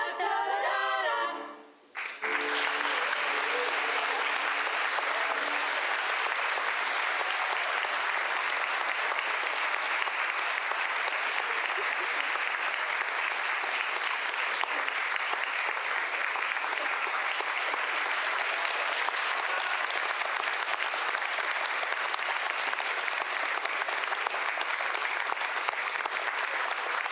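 Audience applauding a school jazz pop ensemble after a performance, with the last bit of the music cutting off at the start, then long, even, dense clapping throughout.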